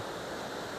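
Steady rushing water fills the clip, a broad continuous wash of a forest stream flowing nearby in the rainy season, with no voices.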